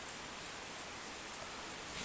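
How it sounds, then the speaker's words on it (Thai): Steady morning rain falling outdoors during a storm that lasted through the night, a soft continuous hiss with no distinct drops standing out, faint and even throughout. "บรรยากาศยามเช้าครับฝนตก"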